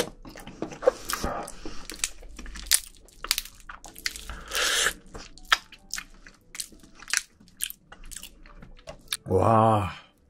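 Someone eats spicy marinated raw crab (yangnyeom gejang) up close, with wet biting, crunching and chewing bursts throughout, ending in a brief voiced exclamation.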